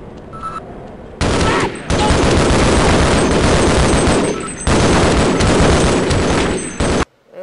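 Rapid automatic gunfire from the game Half-Life blasts in two long, loud bursts with a short gap between, ending abruptly.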